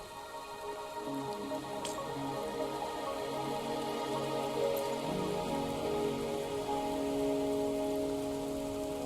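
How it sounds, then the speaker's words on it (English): Steady rain falls in the video game Wuthering Waves, a continuous even hiss of drops on surfaces that holds at the same level from start to finish with no voices. "Are you trapped here by the rain?"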